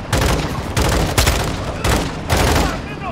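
Gunfire at a black SUV in the Modern Warfare 2 video game comes as loud, dense bursts of rapid shots, with four or five volleys separated by brief gaps.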